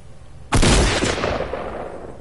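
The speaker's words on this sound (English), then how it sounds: "Shoot your gun if you type that in." A single loud gunshot from a video game cracks out sharply after a short quiet lead-in, followed by a long echoing decay, with no voices.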